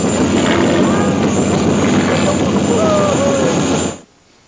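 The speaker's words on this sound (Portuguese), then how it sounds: "mostrou o que é possível fazer com um pequeno avião de acrobacias" A small aerobatic airplane in flight, its engine drone loud and steady for about four seconds before cutting off abruptly, with a voice faintly present underneath.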